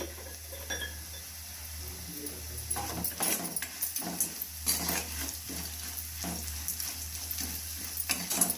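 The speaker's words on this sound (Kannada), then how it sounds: "ಈಗ ಫ್ರೈ ಮಾಡ್ತಾ ಇದ್ದೀನಿ" Vermicelli being fried for upma in a pan, a continuous soft sizzle with scattered clinks and scrapes of a spoon stirring against the metal, close by.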